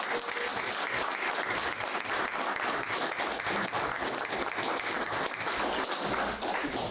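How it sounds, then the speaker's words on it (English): A seated audience at an aerospace society talk about the Psyche spacecraft team gives a round of applause, a dense, even, sustained clapping that holds steady throughout. "Round of applause."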